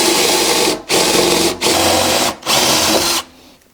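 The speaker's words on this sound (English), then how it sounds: "I just have to drill out these plastic rivets like everything else on this thing." A power drill bores out plastic rivets on an old golf cart in four loud, close bursts of whirring, each lasting under a second, separated by brief silent gaps before it trails off.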